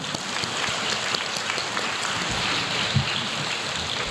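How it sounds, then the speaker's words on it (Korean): A church congregation claps in a sustained, even patter of many hands, moderately loud and steady, with no voices over it. "다시 한번 큰 박수로"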